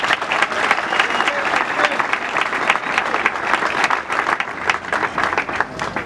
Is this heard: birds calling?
no